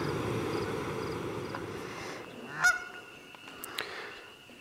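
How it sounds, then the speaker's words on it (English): Geese at a West Virginia campsite honking in agitation, a few sharp calls standing out, mostly at a distance, over a quiet outdoor background. "I got the geese upset."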